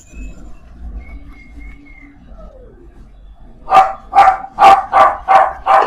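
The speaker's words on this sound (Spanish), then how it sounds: "¿Quién tiene un perro ladrando?" A dog barks six times in quick rhythmic succession, each bark sharp and fairly close, after a few quiet seconds with faint tones and background noise.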